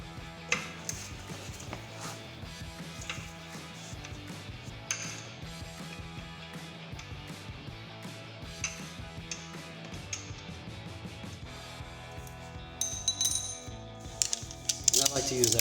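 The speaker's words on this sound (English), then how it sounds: "And I like to use that breaker bar to get started because sometimes these can be on pretty tight." A breaker bar and 13mm socket work loose a tight center bolt on a 2015-2023 Mustang brake caliper, giving scattered metallic clicks, ratcheting and clanks close by in a busy garage, with a denser burst of sharp clinks near the end.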